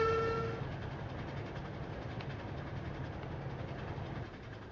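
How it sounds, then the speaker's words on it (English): Pusher locomotive waiting at the bottom of a big mountain in the video game Trainz 2, a short horn toot at the start fading into a quiet steady rolling rumble. "Pusher locomotive waiting at the bottom of this big mountain behind us."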